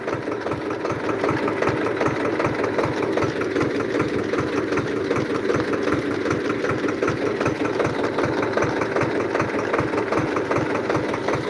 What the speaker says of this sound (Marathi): आपण औषध हे पंपानं संध्याऐवजी ट्रॅक्टरने सोडतो हे बघा